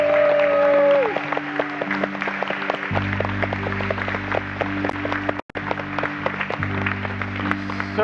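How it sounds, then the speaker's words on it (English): Audience applause for young adults at a ceremony in a church sanctuary, steady clapping running through nearly the whole stretch beneath sustained organ or music tones, with a brief dropout near the end. "Let's have a big round of applause for our young adults."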